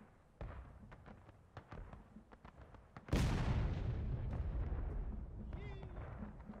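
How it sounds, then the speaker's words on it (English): A gun fires at a Gettysburg reenactment: after quiet talk and footsteps, one loud, close blast booms out midway and leaves a long rumbling tail, with voices resuming afterward. "Gun."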